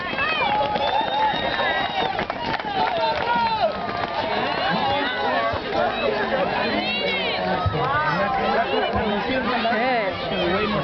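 Crowd at a kids' running race in Owen Sound, Ontario: steady hubbub of chatter, shouts and cheering from many spectators close around, with children running past.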